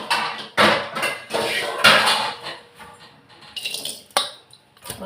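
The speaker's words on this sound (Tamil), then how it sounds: "இப்போ வந்து நான் ஒரு கடாய் எடுத்துக்கிறேன்." A metal kadai is picked up and set down in a home kitchen, with several loud clanks and knocks against the stove and nearby pans, separated by brief quieter gaps.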